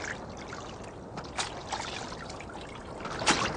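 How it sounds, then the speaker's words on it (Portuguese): River water of the Jordan, struck with a cloak, gives faint trickling and light splashing with a few soft louder splashes at scattered moments. "Elias pegou o manto e bateu com ele na água."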